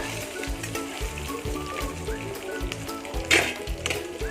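Eggs frying in hot oil in a pan for egg curry, giving a continuous crackling sizzle with a brief louder spatter near the end.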